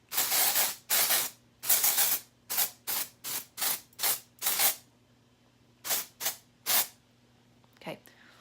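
A small Batiste dry shampoo aerosol can hissing in about a dozen short, close bursts, each roughly half a second long with brief gaps between, before a short final pause.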